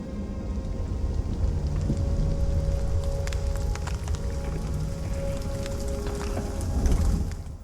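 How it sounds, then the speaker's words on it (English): Rain storm in a movie scene near a creepy cave, a dense steady wash of rainfall and wind with a low rumbling bed, constant and fairly loud throughout, swelling slightly near the end. "Oh, don't tell me there's a storm coming."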